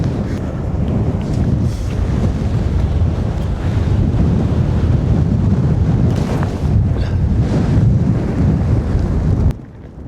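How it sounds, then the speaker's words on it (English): Strong wind on the Yorkshire Wolds Way trail roars steadily into the microphone, a dense low rumble that buffets without pause for several seconds before dropping off abruptly at the end. "It's fucking windy."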